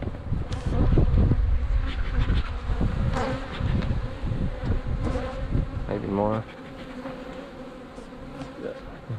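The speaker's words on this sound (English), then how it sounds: "There's some good bees." Honey bees buzzing densely around the hives of a commercial bee yard during pollen substitute feeding before almond pollination, a steady close swarm hum with wind on the microphone and a brief spoken remark.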